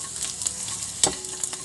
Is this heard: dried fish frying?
yes